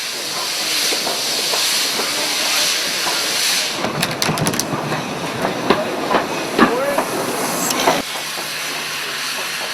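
Steam locomotive St Dunstan working on an industrial colliery railway at Snowdown, with a steady hiss of escaping steam, then a run of sharp clanks and knocks from the moving engine and wagons before the hiss settles again.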